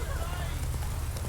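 Roach the horse gallops in The Witcher video game, a steady rapid clip-clop of hooves thudding close and continuous, with voices talking over the hoofbeats.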